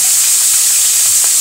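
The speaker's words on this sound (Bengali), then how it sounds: "ভিউয়ার্স আমরা মাছগুলো ভেজে নেব" Hilsa fish fries in hot oil in a kadai over a wood-fired stove, giving a loud, continuous hiss of spitting oil close up, with no voices.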